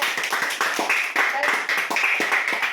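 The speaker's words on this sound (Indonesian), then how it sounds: "Tepuk tangan dong buat saya" Students in a classroom clap for their teacher after a presentation, with rapid uneven hand claps from a small group close by and voices mixed in.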